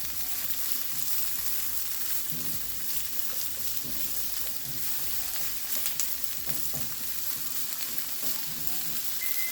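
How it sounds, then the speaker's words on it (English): Vegetables stir-fry in oil, stirred to coat them, making a continuous near sizzle broken by repeated scraping and stirring sounds throughout, with no voices. "give them a stir just so we can coat all of them with some of this oil"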